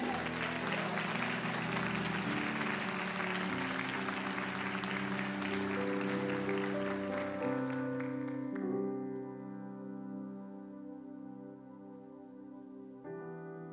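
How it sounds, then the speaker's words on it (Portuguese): A church congregation claps for several seconds, the clapping fading as sustained organ or keyboard chords carry on alone and take over toward the end. "Pela tua vida, aplauda a Jesus."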